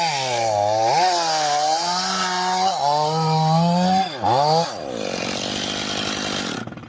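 Chainsaw cutting a felling notch in a pine tree, its engine loud and close with rising and falling pitch as the chain bites, then settling into a rougher cutting tone before stopping.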